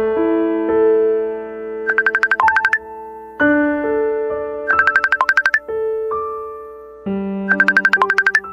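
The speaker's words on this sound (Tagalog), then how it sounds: "Hanggang isang araw ay lakas loob niya akong tinawagan, Papa Dudut." A phone rings for an incoming call, a loud electronic ringtone melody of sustained tones and quick chirping trills that repeats in several cycles, clear and alone.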